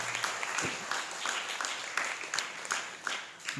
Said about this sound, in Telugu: గట్టిగా చప్పట్లు కొడుతూ దేవుని మహింపరుద్దాం